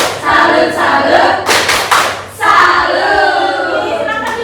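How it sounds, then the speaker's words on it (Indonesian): Schoolchildren in a classroom do a call-and-response clapping chant, with loud, dense bursts of many hands clapping at once amid energetic group shouting close by. "Caranya itu tepuk salut."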